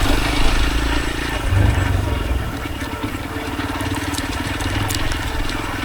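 A Yezdi Adventure motorcycle engine runs steadily while the bike rides along a moderate offroad trail, with a close, continuous rumble mixed with rough crunching and rattling from the uneven ground.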